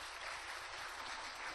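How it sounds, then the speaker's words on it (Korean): A church congregation applauds together during a service, a steady, dense wash of clapping hands heard at moderate distance, without talk over it. "이분들한테 박수 한번 쳐주세요."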